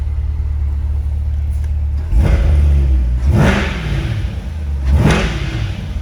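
A 2020 Corvette Z51 coupe with the engine running, a heavy low idle rumble broken by three sharp throttle blips that rise and fall, loud and close, with no talking.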